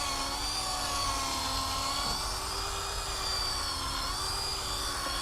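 A steady, high-pitched motor whine runs without a break, like a drill spinning continuously at close range, as it cleans mold from a car's interior carpet.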